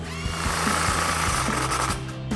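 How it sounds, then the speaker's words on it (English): A 15mm socket, likely on a power tool, tightens an exhaust clamp on a Ford F-150 MBRP Armor Lite dual exhaust. A steady, loud mechanical buzzing runs for about two seconds, close up, with no talk. "And now we can go back to the clamp and take a 15mm socket to tighten that down."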